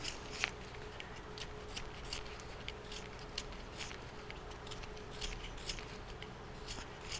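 A carving knife makes pushing cuts into wood on a Santa ornament, producing a run of faint, close scraping and clicking strokes at an irregular pace over a quiet room hum, with no speech.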